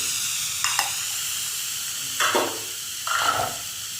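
Vegetables fry in oil in a pan while cooking sago khichuri: a steady soft hiss, with three sharper bursts of sizzling spaced a second or so apart.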